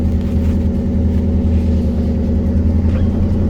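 A four-wheel-drive off-road vehicle climbs a hill in the desert in third gear, its engine a loud, steady low rumble that holds without pause.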